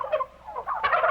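Turkeys gobbling in a run of rapid, warbling calls that swell louder toward the end, with no voices, in a 1951 comedy scene.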